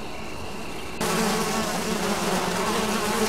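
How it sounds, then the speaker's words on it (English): Bees buzz steadily in the video game Zork Grand Inquisitor, a dense, continuous insect drone that swells louder after the first second and holds close and constant with no talking. "Ah, well bees."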